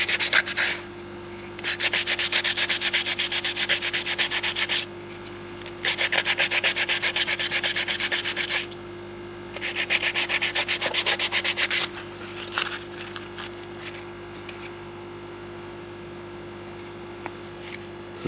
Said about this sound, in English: fine sand it